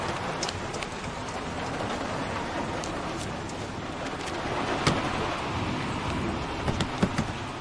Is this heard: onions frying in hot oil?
no